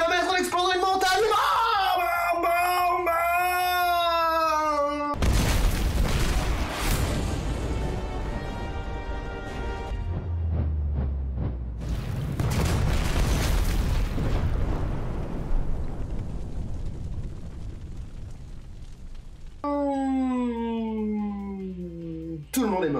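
A long, roaring explosion from the Saint Seiya Netflix anime blows up a mountain, rumbling and crackling for many seconds, loud and broad, framed by dramatic howling voices before and after it.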